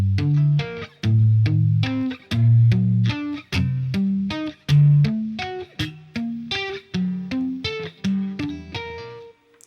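Electric guitar plays diatonic triads as three-note groups moving up and down the neck, played with hammer-ons. Notes are clean, evenly spaced and plucked, with the line climbing and falling steadily and ending on a ringing note.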